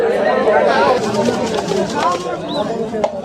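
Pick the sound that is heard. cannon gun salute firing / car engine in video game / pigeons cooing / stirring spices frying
pigeons cooing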